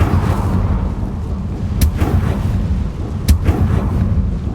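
A fire spell cast in Hogwarts Legacy, heard as two sharp bursts of flame about a second and a half apart, loud and close over a low, rumbling game ambience.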